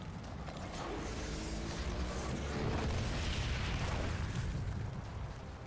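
A loud, rolling explosion in the shooter video game Outriders, swelling and sustained for several seconds with a dense rumbling roar and no talk over it.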